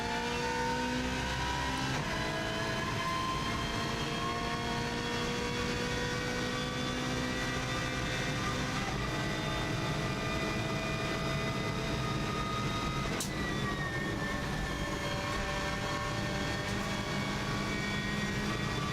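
A Subaru Impreza rally car's engine drives hard through a record mountain time-trial lap, a loud, sustained high-revving roar rising in pitch under acceleration and broken by a few sharp gear changes, with no talking.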